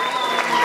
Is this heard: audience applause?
yes